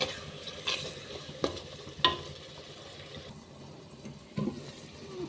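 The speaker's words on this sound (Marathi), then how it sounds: "मसाला छान परतून झालेला आहे. तेलही छान सुटलेलं आहे." Ground masala for mutton handi fries in oil with a low continuous sizzle, broken by a few sharp scrapes and knocks of the stirring spoon against the pan, close and moderate, with no talking.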